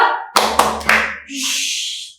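Children's hand-clapping game: three sharp, loud claps in quick succession, then a voice responds loudly afterward.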